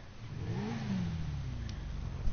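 Bati 801 sport motorcycle in a GTA video game revving its exhaust, a steady throaty engine drone that rises in pitch through the middle and holds fairly loud without any talk.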